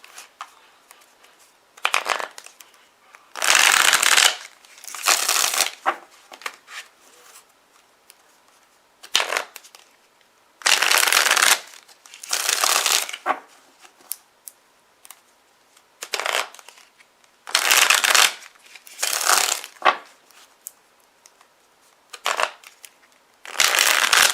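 Tarot cards being shuffled in repeated bursts of riffling and sliding, separated by short quiet gaps, close and fairly loud with no talking.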